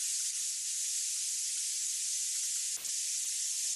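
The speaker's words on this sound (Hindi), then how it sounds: "हाँ भाई, कुकर की सीटी बज रही है" A pressure cooker whistle blows steam in a loud, steady hiss that runs unbroken across the whole stretch, with a brief knock partway through.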